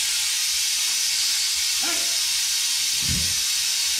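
Abrasive blasting driven by an air compressor on a rear differential, a loud continuous broadband hiss that runs unbroken for the whole stretch, with a few faint low bumps underneath.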